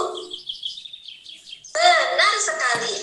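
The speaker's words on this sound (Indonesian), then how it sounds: "Nah, ini suara burung, coba kita dengarkan." High, quick bird chirps twitter at first, then a brighter, fuller burst of tweeting song rises and continues to the end.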